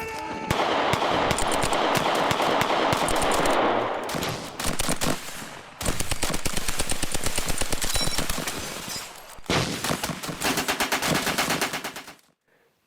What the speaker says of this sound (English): The German sentry opens fire.